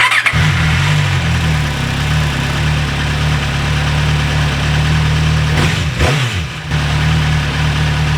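An MV Agusta 1090R motorcycle engine idles steadily with a low, throbbing exhaust rumble and its exhaust servo motor, then briefly revs and settles back near the end.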